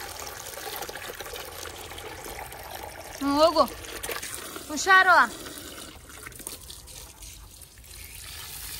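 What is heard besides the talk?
pouring water onto a hibiscus plant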